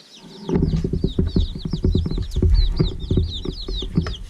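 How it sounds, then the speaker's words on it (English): Many baby chicks of laying hens peeping at once on a homestead, a dense chorus of high chirps over soft rustling and scratching close by. "So, here are our little chicks."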